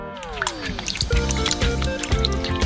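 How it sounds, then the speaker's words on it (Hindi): A kitchen sink filling with water for washing potatoes, a close, continuous splashing and trickling stream with a rising tone at the start, and rhythmic low clunks running under it. "इसलिए हम इन्हें सिंक में डालेंगे और पानी से भरेंगे।"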